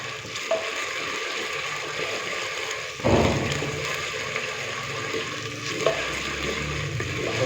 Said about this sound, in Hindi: सब्ज मिर्च और लहसुन के पेस्ट को हमने हल्का सा फ्राई कर लिया है।